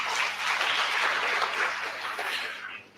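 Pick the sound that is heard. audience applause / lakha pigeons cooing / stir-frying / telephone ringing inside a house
audience applause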